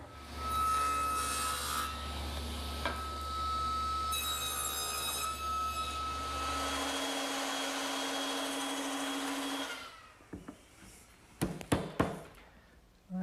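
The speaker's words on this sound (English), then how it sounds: "Now I need to cut a tenon on the end of those intermediate supports to fit into those" A hand saw cuts a tenon on the end of an intermediate wooden support, a steady continuous rasp for about seven seconds, close and loud. A lighter, higher stroke follows, then quiet broken by a few sharp knocks near the end.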